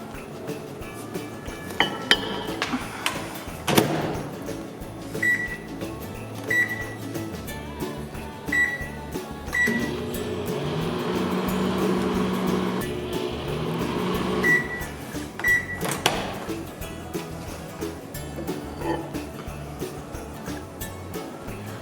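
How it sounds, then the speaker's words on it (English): A microwave oven hums steadily for several seconds, with a run of beeps, clicks and clinks of a door and dish before and after. "So let's stick it in the microwave."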